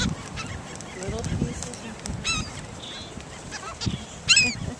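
Seagulls being fed pizza crust at the seaside in Seaside Heights, several squawking calls scattered over a few seconds with a louder cry near the end, amid outdoor background noise.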